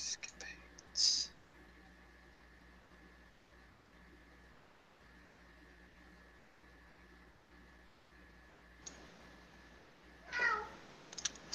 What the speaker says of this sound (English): Sorry, my cat's just bugging.